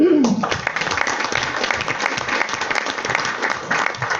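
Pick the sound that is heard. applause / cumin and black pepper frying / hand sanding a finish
applause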